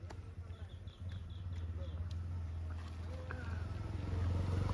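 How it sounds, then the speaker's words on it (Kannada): A vehicle passes close by during an outdoor kabaddi game. Its steady, low engine rumble swells louder toward the end, with faint background voices. "ಗಾಡಿ ಬಂತು ಗಾಡಿ ಹೋಗಿ"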